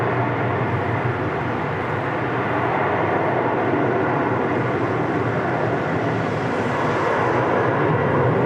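An airliner on its takeoff roll at a wet, windy Sydney Airport, a loud, steady broadband roar of jet engines blended with wind and rain noise, building slightly toward the end.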